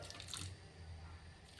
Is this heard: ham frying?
no